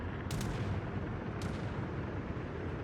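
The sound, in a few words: battleship guns firing HE shells in video game World of Warships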